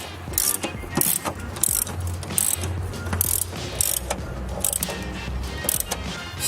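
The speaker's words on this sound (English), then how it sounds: "Now I'm gonna tighten all the strut tops." A ratchet clicks rapidly in repeated bursts while strut top nuts are tightened on a 1988–91 Honda Civic, with short pauses between strokes and a low mechanical hum underneath.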